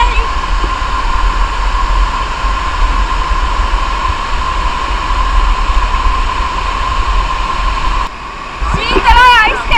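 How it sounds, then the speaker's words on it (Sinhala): A cold, deep, green forest stream at an eco resort rushes in a loud, constant roar close by, and a voice speaks briefly over it near the end. "හැබැයි ෂෝක් වතුර පාර"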